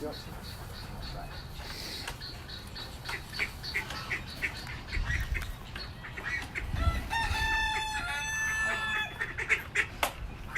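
A busy mix of farm birds, including chickens and peacocks, clucking, squawking and honking, with a rooster crowing, while people talk nearby during morning feeding.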